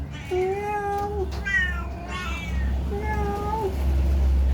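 Cats in a pet shop meow repeatedly and loudly nearby, with several separate calls over a steady low room hum.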